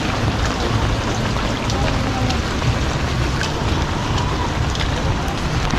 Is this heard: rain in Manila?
yes